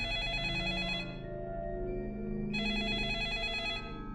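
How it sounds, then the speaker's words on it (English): Telephone ringing in the video game 428 Shibuya Scramble: two bursts of a bright electronic ring separated by a short gap, layered over steady background music, loud and close. "The sudden ringing of a phone startled everyone in the room."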